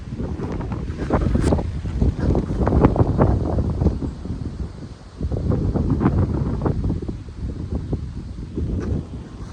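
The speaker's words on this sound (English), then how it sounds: "There's the wind again." Strong wind blows through a garden, loud gusty buffeting against the microphone with rustling and rattling, easing briefly before surging again.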